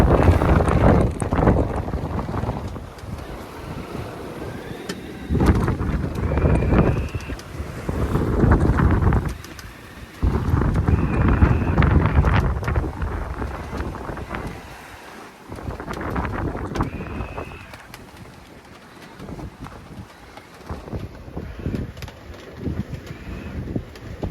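Gusty wind buffeting the microphone aboard a sailboat on the Baltic Sea, moving at about 6 knots, rising and falling in loud surges, with faint rushing water and occasional distant bird calls.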